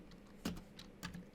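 A few soft keystrokes on a computer keyboard, close and faint, two slightly louder clicks standing out against a quiet background.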